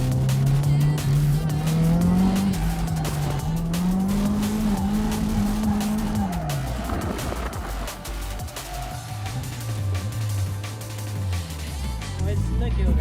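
A car drifting around a corner of a wet, patchy track, its engine revving loudly and rising and falling while the tires squeal and skid, close and continuous throughout.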